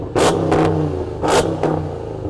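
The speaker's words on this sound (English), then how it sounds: "This truck sounds epic. Go on, let's have a listen. Rev it up." A Hennessey Mammoth pickup truck engine revs hard twice, each roaring burst rising and falling, loud and close, with a low idle rumbling between.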